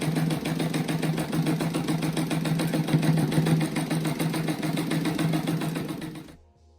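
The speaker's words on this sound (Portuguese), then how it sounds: "Todos os pretos daí eu vou costurar agora." A sewing machine stitches black fabric strips for a bear-shaped rug, running in a fast, steady mechanical whir close by for several seconds before stopping abruptly.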